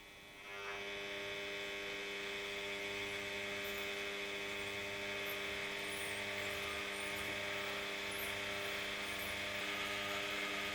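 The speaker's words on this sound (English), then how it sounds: "I've got a motor connected to the string and I can start the motor moving" Small motor running steadily, driving the top of a spring up and down with a mass hanging from it, a constant mechanical hum with faint rhythmic ticking that starts just after the opening moment and continues evenly throughout.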